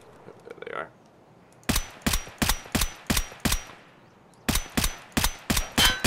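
M4 rifle single shots in Escape From Tarkov: a first string of six evenly spaced sharp cracks, a brief pause, then six more in quick succession, each loud and close, after a short burst of talk at the start.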